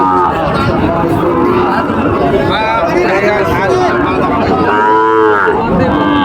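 A white Sahiwal cow moos loudly and close, with a long drawn-out low call, while a crowd chatters in the background of a busy cattle market in Panchbibi.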